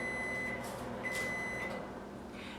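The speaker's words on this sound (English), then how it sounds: "now that my microwave went off" Microwave oven timer going off in a kitchen, a long sustained electronic beep followed by a second held beep over a steady background hum.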